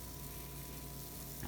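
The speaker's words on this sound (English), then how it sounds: "You hear that little sizzle? That's what you want to hear," Pancake batter ladled into a hot pan for a Midwest breakfast, giving a soft steady sizzle that stays faint and even across the brief moment.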